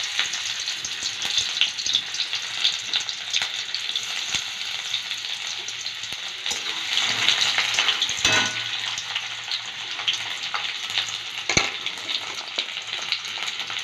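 Chopped garlic, ginger and spices fry in hot oil for tadka dal, a steady close crackle and hiss with brief louder spatters and a few stirring clinks.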